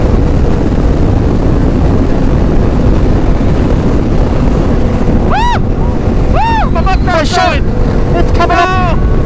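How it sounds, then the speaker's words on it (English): Heavy wind buffets the microphone in a constant low roar, with a few high whistling tones rising and falling partway through. "Yeah, I got wind here."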